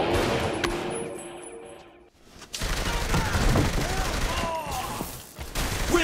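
Gunfire rattles in Saints Row: The Third Remastered, with bursts of rapid shots and a sudden drop to near silence partway through before the firing resumes.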